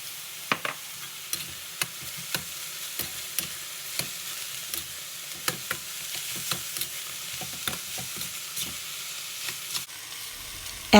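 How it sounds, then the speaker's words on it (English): Empanada filling stir-fried in a pan with oyster sauce, steady sizzle and hiss under frequent spatula clicks and scrapes against the metal, close and moderate in level. "Add some oyster sauce and mix well."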